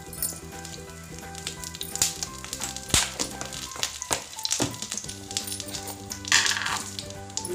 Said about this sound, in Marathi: थोडीशी जिऱ्याची फोडणी देते मी,